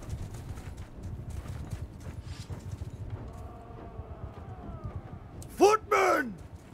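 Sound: horses galloping in battle, Mount and Blade II: Bannerlord video game

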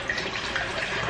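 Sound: bottled water being poured into a container

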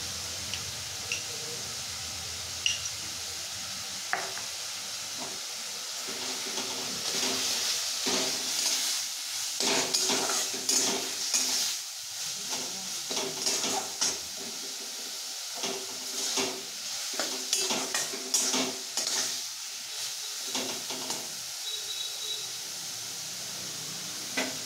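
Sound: frying and stirring khosta with cumin and ginger paste

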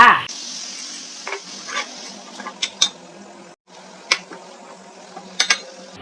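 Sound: stir-frying minced pork with a little water added

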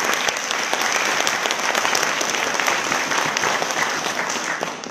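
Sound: audience applause

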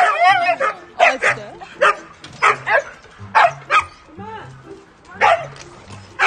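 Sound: large dog barking

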